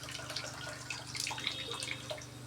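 Water poured into soaked tamarind and stirred by hand for a bitter gourd tamarind curry, a soft, steady liquid swishing with small splashes and drips, close and unbroken throughout.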